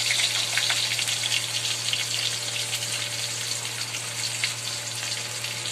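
Curry leaves and chopped onion frying in oil in a pan for andyachi bhaji, a steady broad hiss with crackling spatter throughout, fairly close and even in level, with no talk.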